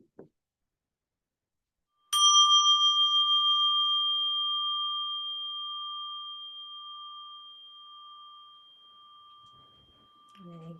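A mindfulness bell is struck once during walking meditation and leaves a clear, sustained ringing tone that slowly fades over many seconds in a quiet room, with faint movement just before the strike and a voice beginning as the ring dies away.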